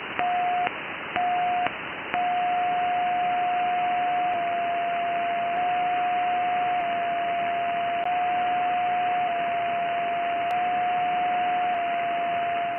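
A Malachite DSP 2 receiver tuned to 14 MHz single sideband gives a steady, band-limited hiss of shortwave noise with a faint continuous tone running through it, interrupted by a couple of brief dropouts near the start.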